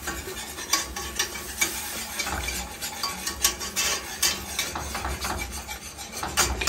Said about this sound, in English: Don't stop mixing.